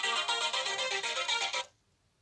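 Ringtone from a phone set off by the phone finder on a Casio Edifice EQB-1100 watch (module 5639), a steady bright electronic melody heard a short distance away, playing for about a second and a half before cutting off into silence.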